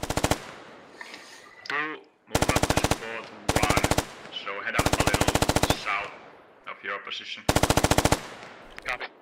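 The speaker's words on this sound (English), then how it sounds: "All the rifles are firing." Rifles and an automatic rifle in a military squad shooter fire in repeated loud, rapid bursts, several sustained volleys separated by short gaps, with brief radio-style voices in between.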